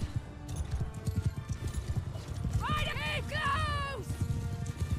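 Cavalry horses gallop in the battle game Mount & Blade II: Bannerlord, a dense rapid hoof clatter with a loud whinnying neigh midway, under a man's speech.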